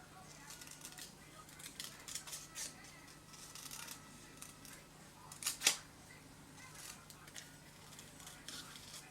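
Paper card stock is trimmed for a wreath card craft: quiet rustling and handling, then one crisp cutting snip through the end of the card, faint and close.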